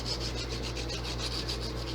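Dip powder nails being filed smooth with light, even strokes, a soft rhythmic rasping repeated about twice a second, close and fairly quiet with no talking.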